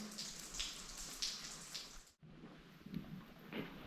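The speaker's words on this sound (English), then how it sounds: "A lot of water coming through." Water trickling and dripping through an old 1960s abandoned mine tunnel, a steady wet patter with scattered drops, fairly faint, with a short dropout midway.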